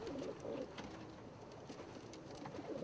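Bluette and satinette pigeons coo in a pen, a few soft, low rolling coos repeating over quiet background rustle.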